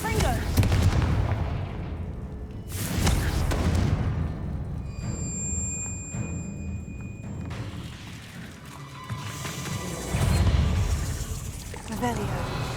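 A Confringo explosive spell cast in Hogwarts Legacy on PS4/5 produces heavy booming blasts, a strong one near the start and others later, over a continuous rumbling game soundscape with a voice speaking.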